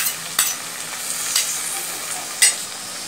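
Whisked curd poured into a frying mustard prawn masala: a bright, even sizzle close by, with three brief scraping knocks about a second apart.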